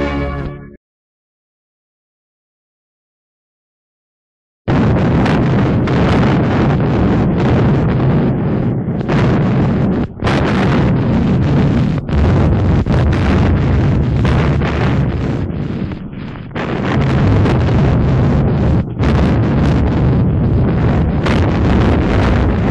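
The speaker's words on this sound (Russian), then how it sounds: "проговорила артиллерия дальнего действия с левого берега Волги." Long-range artillery fire from the left bank of the Volga at Stalingrad in 1943, a loud, continuous rumbling roar of guns and blasts on an old film soundtrack, following a brief silent gap.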